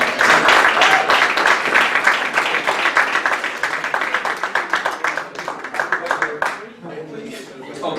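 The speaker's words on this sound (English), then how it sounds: "Give him a round of applause." An audience at a men's soccer banquet applauds in a sustained burst of dense, close clapping that thins and fades out near the end.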